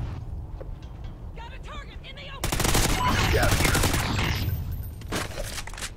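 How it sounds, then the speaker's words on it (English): Call of Duty Ghosts gameplay on the Warhawk map with shotgun fire: a dense, loud barrage of shots erupts midway and rattles on for a few seconds, amid a muffled game soundscape and a player talking. "Why are they using shotguns on Warhawk?"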